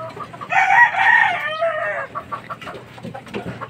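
A fighting rooster crows loudly up close, one drawn-out crow followed by a run of short clucks, alone without talk.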